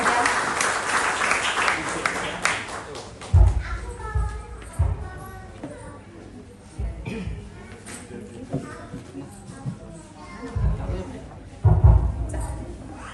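A short burst of audience clapping at a community meeting, dense at first and then fading, before a voice takes over, with chatter and scattered noises in the hall.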